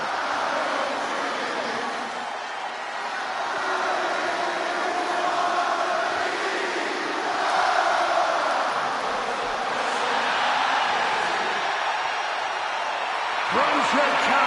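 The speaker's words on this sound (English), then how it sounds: "Just listen to this ovation for the Second City Saint" Arena crowd in the WWE 2K26 wrestling video game giving CM Punk a sustained hometown ovation in Chicago, a steady, loud roar of cheering that swells and holds throughout without letup.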